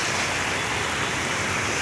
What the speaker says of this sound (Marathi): पाऊस एकदम जबरदस्त आहे.